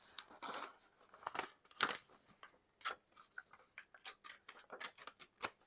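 Paper from an old printed script page torn by hand in a run of short, crisp rips and rustles, close and fairly quiet, with no talk over it.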